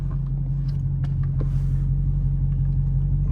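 A Dodge Hellcat's engine rumbles low and steady at close range, a continuous deep drone with no voices over it.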